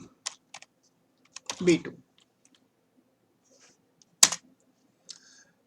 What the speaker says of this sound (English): Now I type the formula here